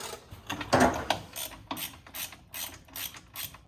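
Ratchet wrench clicking as bolts are loosened on the underside of a 1996 Chevrolet S10 during coil spring work, a series of sharp mechanical ratcheting bursts close to the mic, with no talking.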